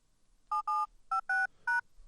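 Five touch-tone telephone key presses, each a short steady dual-tone beep, sounding in an uneven rhythm with brief gaps between them, clean and close with no talking.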